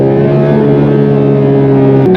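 Porsche 911 GT3 992 Touring with manual gearbox accelerating on a wet autobahn, its engine a loud, steady, rising mechanical roar heard from inside the car, ending in a brief sharp break near the end.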